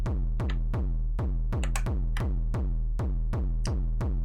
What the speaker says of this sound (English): this kick is basically just the TRX BD